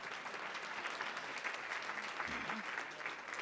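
An awards-ceremony audience claps in steady, dense applause throughout, close and fairly loud, with a faint voice or two under the clapping.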